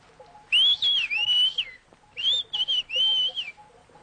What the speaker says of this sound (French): Pouvez-vous nous siffler une phrase? Par exemple, porte-moi le râteau.